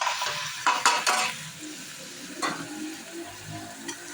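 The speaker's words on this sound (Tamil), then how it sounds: "நல்லா கொஞ்சம் கிளறி விடுங்க" Chopped tomatoes frying in a pan and being stirred, with a few quick scraping clatters of the spoon near the start, a steady soft sizzle throughout, and one more scrape partway through.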